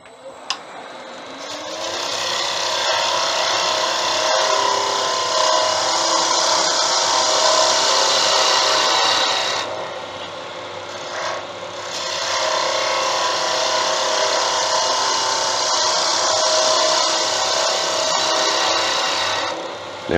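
A wood lathe spins a wooden pen blank while a tool cuts it down toward the bushing, giving a loud, sustained scraping hiss that dips briefly partway through and then resumes steadily, with no talking.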